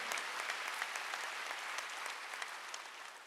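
Applause fills a church worship service, dense and steady clapping from the congregation at moderate distance, with no speech over it.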